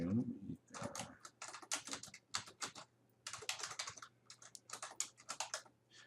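Rapid clicking of keys on a computer keyboard in bursts with short pauses, close and clear, while someone talks quietly in the background.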